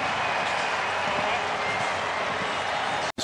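Dense, steady roar of a baseball stadium crowd on its feet cheering late in a Rangers–Athletics game, a broad wash of noise without distinct claps, cutting off briefly near the end.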